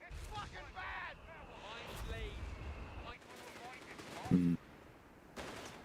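Rifle fire in the video game Company of Heroes 3 crackles as a few sharp reports amid a busy battle soundscape, moderately loud with scattered impacts and one brief tonal alert.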